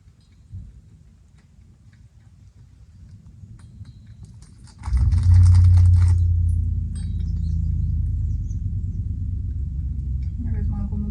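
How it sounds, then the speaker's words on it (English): Utility trailers rolled and shuffled around a yard, a low rumbling clatter that swells in loudly partway through and continues as a steady heavy rumble with some rattling. "moving all the utility trailers around"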